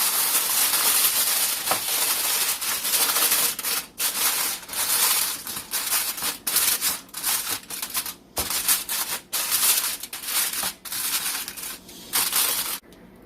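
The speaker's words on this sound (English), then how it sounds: "you're going to cover this with aluminum foil" Aluminum foil crinkling and crushing as it is pressed over a casserole dish, loud close rustles and scrunches in uneven bursts with short pauses between.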